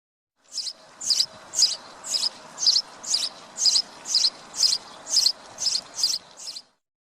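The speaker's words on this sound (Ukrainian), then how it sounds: "горобець" Sparrow chirping, a steady series of about twelve short, evenly spaced high chirps, close and clear against a faint hiss.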